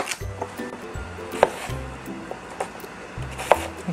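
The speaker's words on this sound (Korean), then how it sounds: "이렇게 드시기에 한 입에 쏙 들어가실 정도로 이렇게 썰어주세요" A knife chops a large radish into bite-size cubes for kkakdugi on a wooden board, a steady series of close, dull thunks with occasional sharper clicks, evenly paced and alone without talk.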